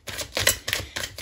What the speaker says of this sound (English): I'm going to keep shuffling and then pick one, unless one just falls